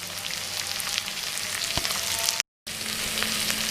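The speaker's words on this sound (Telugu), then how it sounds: "ఉల్లిపాయలు కాస్త వేయాక అల్లం వెల్లుల్లి పేస్ట్, పసుపు వేసుకొని కలుపుకున్నాం." Onions with ginger garlic paste and turmeric frying in a pan, a close, steady sizzle with light stirring clicks and a short silent gap, no talking.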